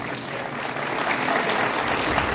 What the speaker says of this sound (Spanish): director general José Luis Barrios Martínez, para quien también les pido un fuerte aplauso.